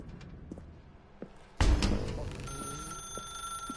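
A telephone rings in The Stanley Parable video game, a sudden loud burst followed by a steady electronic bell tone that keeps sounding to the end over a quiet room hum.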